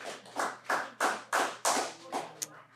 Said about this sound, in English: please stop the clapping